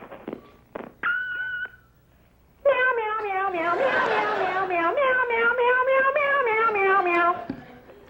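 A cat meows in a long, wailing, drawn-out call on an answering machine message. It comes after short clicks and voice fragments, and the recording is loud and close.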